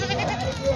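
Goats bleat at a busy goat and sheep market in Maharashtra, a short wavering bleat close by over a murmur of crowd noise.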